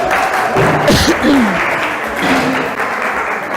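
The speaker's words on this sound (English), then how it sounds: "Can we give a round of applause?" Audience applause in a room, steady clapping lasting a few seconds with faint background voices.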